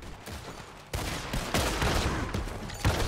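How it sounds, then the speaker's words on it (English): Shotgun blasts fire in Red Dead Redemption 2, a few loud, broad booms arriving at uneven intervals over dense gunfight noise, with no talking. "Shotgun."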